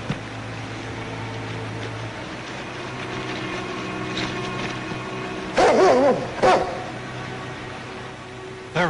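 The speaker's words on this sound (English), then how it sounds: "There he is. There's that dog." A dog lets out a couple of loud barks in a short burst partway through, heard over a noisy, hissy older soundtrack with a low steady background hum.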